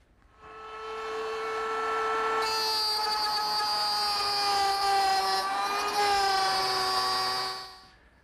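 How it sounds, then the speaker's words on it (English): A router table cuts a groove into a wooden cabinet panel, a loud sustained high-pitched whine that rises in pitch as the bit takes the wood, steady throughout, then winds down at the end; no talking. "Now, I'll make the groove over on my router table."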